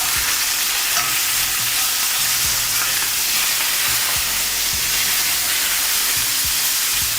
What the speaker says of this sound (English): Make sure everything is touching the pan, for a beautiful sear.